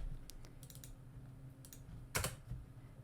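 Someone typing search commands on a computer keyboard: a handful of quiet, close key clicks in short bursts, ending with one louder, sharper keystroke, with no voices.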